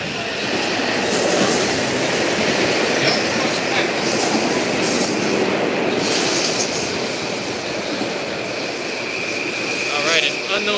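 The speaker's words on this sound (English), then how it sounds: "an unknown train is racing this one" A train passes at Fordham station during the evening rush hour, a loud, close roar of rolling wheels with squeals and clattering rail noise sustained throughout.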